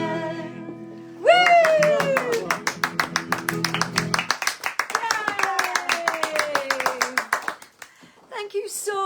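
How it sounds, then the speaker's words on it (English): Audience applause and cheering break out after a Burns Night kitchen-concert performance of Auld Lang Syne, with dense clapping that thins into scattered claps, while voices call out over it. "Big round of applause for you, Nils Elders"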